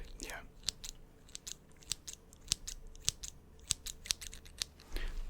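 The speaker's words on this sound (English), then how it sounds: "so those were the scissors" Scissors snip in crisp, sharp clicks, around a dozen spaced irregularly over a few seconds, close and quiet in an intimate ASMR setting, with a soft rustle at the start and end.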